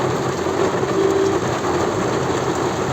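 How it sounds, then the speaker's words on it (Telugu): Heavy rain drumming on a moving car during a drive, heard from inside as a dense, steady hiss and patter with a constant low road rumble underneath, loud and unbroken throughout. "ఆ వర్షం వరకు చూసారా"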